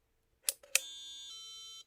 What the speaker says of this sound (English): Hear the beep?